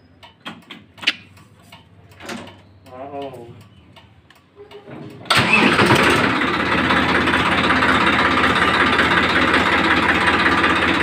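A Massey Ferguson 241 DI tractor engine fires up abruptly and settles into a loud, steady rumble, after a few moments of clicking and faint voices.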